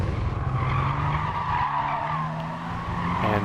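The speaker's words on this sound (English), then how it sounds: "And nothing but tire squeals behind me." Tires squeal steadily through a race start in Gran Turismo Sport, with racing car engines roaring underneath for the whole stretch.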